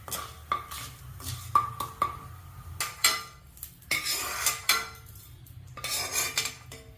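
Roasted chutney ingredients are scooped out of a hot pan, with a string of sharp metal scrapes and clinks of a spoon against the pan, close and irregular, with quiet gaps between.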